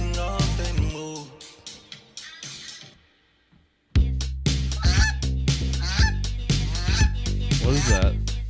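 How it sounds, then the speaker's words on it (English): Loud honking from a goose sound effect, a rapid run of harsh nasal honks over a thumping music beat, broken by a brief near-silent pause before the honking resumes with the beat. "Goose sound effect."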